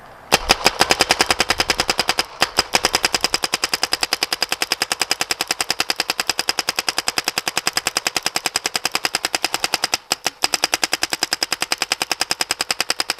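A Planet Eclipse ETEK 3 paintball marker fires a long, rapid stream of sharp, evenly spaced shots, loud and close, with only a couple of brief pauses.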